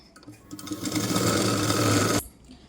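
A sewing machine stitches a 1.5-inch blouse back strip with a half-inch fold, whirring up quickly into a loud, even run for about two seconds before stopping abruptly.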